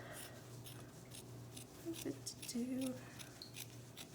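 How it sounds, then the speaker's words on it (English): Scissors cut through sheets of paper towel, producing soft snipping and crinkling close by, partly under quiet talk and a low background hum. "I'm gonna go ahead and cut them in half."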